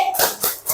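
In a classroom, two thumbs tap together in three soft, quick claps, evenly spaced and close by.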